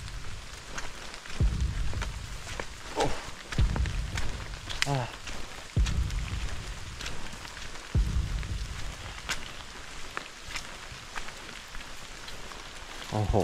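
Steady rain falls in a forest, a continuous hiss of drops on surfaces, with several thuds or footsteps breaking through and someone speaking at times.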